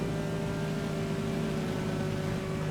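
A steady, droning engine hum holds at a constant pitch throughout, continuous and fairly close, with no other sounds.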